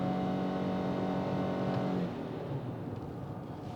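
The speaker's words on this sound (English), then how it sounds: "It sounds very much like a buzzy, naturally aspirated 4-cylinder." A 2025 Ford Maverick hybrid with a 4-cylinder engine accelerates at full throttle on an interstate, a buzzy, strained engine drone over road noise that eases slightly near the end.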